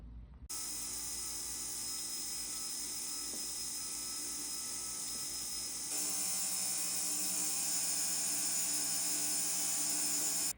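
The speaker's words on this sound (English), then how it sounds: "We're going to be polishing the piece up." A bar pendant made from a wedding ring is polished on a high-pitched electric rotary tool, a steady loud whine that runs unbroken and shifts slightly brighter partway through.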